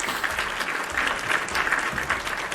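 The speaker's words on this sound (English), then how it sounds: "Get some claps." A canned applause effect on a livestream, steady dense clapping filling the whole short stretch at an even level.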